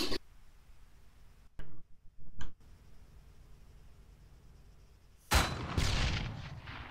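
Enemy gunfire in ARMA 3: a few sharp, distant cracks come through a quiet outdoor hum, then a louder, sustained burst of shots rolls in near the end.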